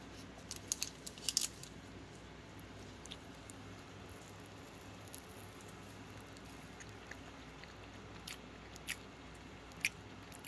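Someone bites and chews carnivore egg bread, a quiche-like bake with a breaded top, during a taste test, with soft crisp bites and quiet chewing clicks scattered across a hushed room.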